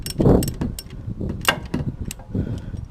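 A ratchet loosens a bolt during a car oil change, giving short, close clusters of clicking and mechanical ticks in an uneven rhythm.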